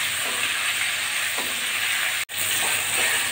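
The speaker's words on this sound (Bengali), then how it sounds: "একই রকম করে আমি সমস্ত মাছগুলো ভেজে নিচ্ছি।" Pieces of catla fish fry in oil with a loud, even sizzle and hiss that fills the clip close up, broken only by one very brief dropout.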